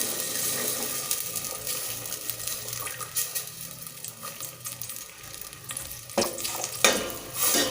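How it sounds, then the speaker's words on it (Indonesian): Blended spice paste hits hot oil in a pan for a vegetable and tofu curry, letting out a loud, continuous sizzle and crackle, with a few utensil scrapes and stirring clatters near the end. "bumbu yang kita blender tadi kita masukkan ke dalamnya ya"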